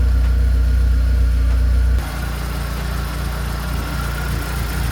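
A car engine idles close by with a steady low rumble that drops slightly in level partway through, then settles into an even, continuous hum with no talking.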